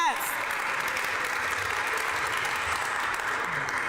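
Steady applause from an audience honoring families at a National Savings Day press conference, sustained dense clapping heard close and even for several seconds.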